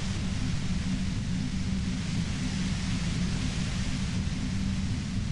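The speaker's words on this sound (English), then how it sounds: "You hear through the white noise. It's especially bad suddenly." Dense, unbroken white-noise static from the Disco Elysium video game, loud and even throughout like a harsh hiss with a heavy low rumble underneath and no voices.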